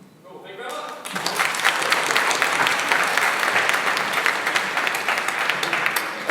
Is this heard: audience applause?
yes